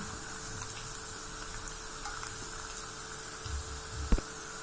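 Cabbage pakoda frying in hot oil gives off a faint, steady hiss and crackle with no voices, ending in a brief sharp click.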